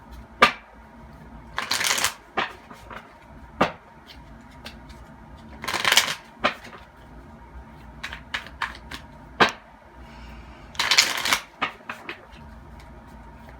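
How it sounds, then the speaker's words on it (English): Tarot cards being turned and handled, soft papery flicks and riffling bursts coming in irregular clusters with quiet gaps, close up and fairly faint. "I'm gonna turn the cards facing me so that I can see them."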